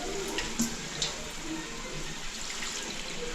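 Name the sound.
water poured into a cooking pot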